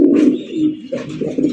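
A colored Raj Golla fancy pigeon coos up close, giving two throaty, rolling coos with a short gap between them.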